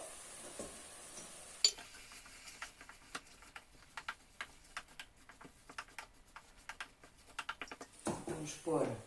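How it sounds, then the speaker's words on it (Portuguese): Onion and peppers, with leek, sautéing in a pan, with a faint sizzle under a regular run of close, sharp spatula clicks and scrapes as the vegetables are stirred. "A cebola e os pimentos. Agora vai refogar."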